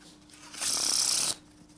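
A deck of playing cards is riffle-shuffled in one quick, loud papery burst of about a second during a card magic trick, with a quiet room before and after.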